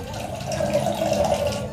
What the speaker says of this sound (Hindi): दही में पहले थोड़ा सा पानी मिला लेते हैं।